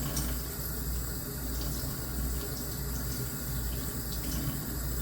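A paintbrush is rinsed under a running tap in a sink, giving a steady, continuous rush of water that stays fairly even from start to finish, with no voices.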